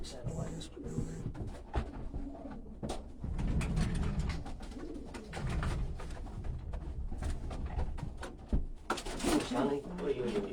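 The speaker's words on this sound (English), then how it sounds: "A couple of birds in there." Homing pigeons cooing inside a loft, soft low coos and wing flutters close by, mixed with clatter and people talking throughout.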